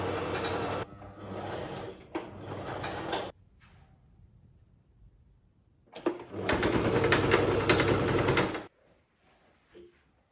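Sewing machine stitching a homemade skirt, two loud bursts of rapid mechanical whirring separated by a quiet pause, close and without talking.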